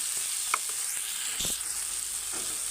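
Onions fry in a pan seasoned with turmeric and salt, giving a steady hiss with a few soft clinks and taps from stirring, and no talking over it.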